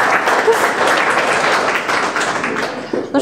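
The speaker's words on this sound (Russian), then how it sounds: "Здесь можно аплодисменты." Applause at the opening of a Kaizen centre in Almaty, a dense, steady patter of many hands clapping for the full stretch, loud and continuous, with a little voice mixed in near the end.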